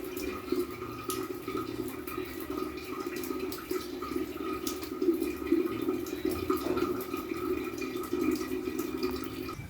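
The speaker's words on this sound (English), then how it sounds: "Added the water for this smoking effect." Water trickling and dripping as it is poured into a toy RC stunt climbing car's smoke unit, a faint, steady small-stream fill heard close up with no talk.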